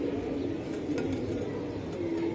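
Soft, low cooing from a female racing pigeon held up close, a steady murmuring hum running throughout against faint background noise, no talking.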